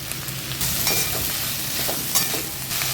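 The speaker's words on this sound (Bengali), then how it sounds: "সেদ্ধ করে রাখা মোচা এর মধ্যে আমি দিয়ে দিচ্ছি।" Boiled banana flower is stirred in a pan with lentils, giving a steady close sizzle of frying broken by light scraping strokes of the spoon.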